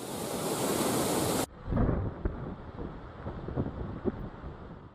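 Floodwater from the thirty-five raised gates of the Sriram Sagar dam in Nizamabad roars as a loud, continuous rushing wash. It drops suddenly after about a second and a half to a lower, rumbling turbulent flow.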